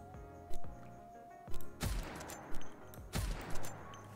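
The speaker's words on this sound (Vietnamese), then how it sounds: "Đây là tạo hình bắn súng của nó này." Rhythmic character gunfire in GODDESS OF VICTORY: NIKKE, a few loud shots in short bursts about every second over game music, with no talking.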